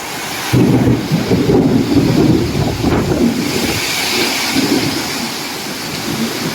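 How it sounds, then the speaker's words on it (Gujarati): Heavy rain pours steadily in a mini-cyclone storm with deep rumbling thunder rolling through, loud and close, with wind buffeting the microphone. "ગાંડો થઈ ગયો વરસાદ જો."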